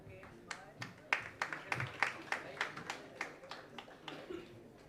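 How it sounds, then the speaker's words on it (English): Audience clapping for winners at a medical quiz event at VMMC, a moderate round of applause with irregular claps spread across the room, mixed with some background murmur. "he deserves a big round of applause"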